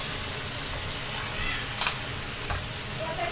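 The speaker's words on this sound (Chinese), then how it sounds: "所以我们现在煎鸡扒。" Teriyaki chicken chop searing in a pan, a loud continuous close-up sizzle with a few brief spatters and light scraping sounds near the end.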